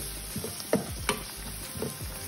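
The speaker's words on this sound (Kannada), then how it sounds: "ಈಗ ಇದನ್ನೆಲ್ಲ ಹಸಿ ವಾಸನೆ ಹೋಗೋವರೆಗೂ ಫ್ರೈ ಮಾಡ್ಕೋಬೇಕು" Coriander powder and cumin masala for bhindi fry in a pan with a soft, steady sizzle, and a few quick stirring scrapes stand out clearly over it.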